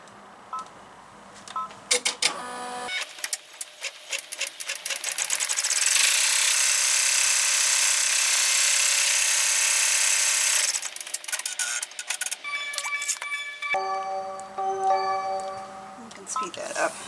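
An embroidery machine runs a placement stitch for a mini composition book cover, with ticking needle strikes at first, then a loud, continuous sped-up buzz for several seconds before the clicking returns. Someone talks over parts of it.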